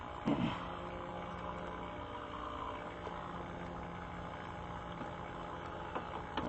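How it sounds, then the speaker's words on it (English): An HVAC vacuum pump drones steadily in the background, a faint continuous mechanical hum with a few small knocks and taps over it. "you can hear that vacuum pump running in the background"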